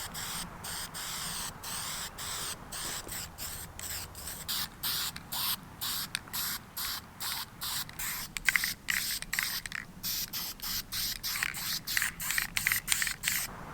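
High-temperature caliper paint is sprayed from a can onto the wiper arms of a C5 Corvette in a long run of short, hissing bursts. The bursts come close together at a near distance, with no voices.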